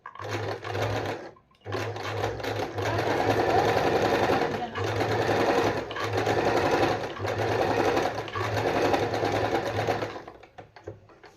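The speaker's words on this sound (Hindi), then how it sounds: "तो अभी हम इसको करते हैं सिलना स्टार्ट" A Usha Janome Allure sewing machine runs steadily while stitching fabric, with a close, loud motor drone that pauses briefly near the start and fades out at the end.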